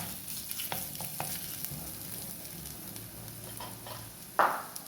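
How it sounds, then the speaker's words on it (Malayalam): Crushed garlic and ginger frying in hot oil for a Kerala sardine curry, a steady close sizzle with a few stirring clinks and a louder hiss burst near the end, no voices. "നാലഞ്ച് വെളുത്തുള്ളി ഒന്ന് ചതച്ചതിട്ട് കൊടുക്കുന്നുണ്ട് അതൊന്ന് മൂക്കട്ടെ വെളുത്തുള്ളി മൂത്തതിന് ശേഷം ഒരു ചെറിയ കഷ്ണം ഇഞ്ചിയും കൂടി നമുക്കൊന്ന് മൂപ്പിക്കേടാം"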